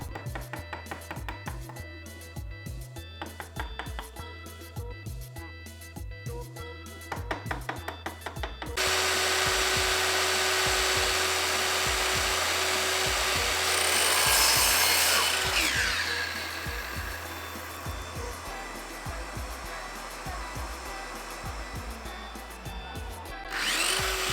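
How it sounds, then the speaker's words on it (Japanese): A wooden model wheel part for a Gundam landing gear is shaved down to 20 mm diameter on a power tool, first a rhythmic mechanical chatter, then a loud sustained grinding whir that swells and eases off, with no talking. "ホイール部分ですね、これを20パイに削っていきます。"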